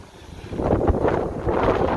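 Strong wind gusting at about 50 km/h along Saint Laurent Boulevard in Montreal on a cool November evening, roaring and buffeting against the microphone in rising, uneven surges.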